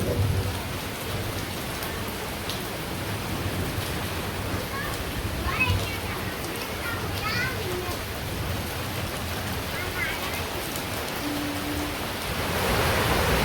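Steady rain falls throughout, a dense hiss of drops on surfaces, with faint voices somewhere in the background.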